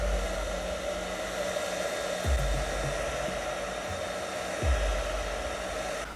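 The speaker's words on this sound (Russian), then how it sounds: "Для этого достаточно будет даже обычного фена." A household hair dryer blows steadily and loudly for several seconds, heating the display of an iPhone XR during disassembly, with a couple of faint low bumps underneath.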